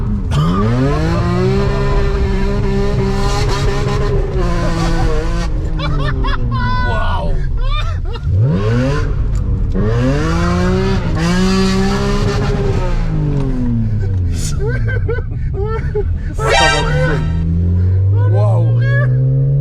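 A BMW E46 316 Ti with a swapped M3 engine accelerating hard on a test drive, repeated rising and falling revs through gear changes with a loud rasping note, heard from inside the car while people talk and laugh over it.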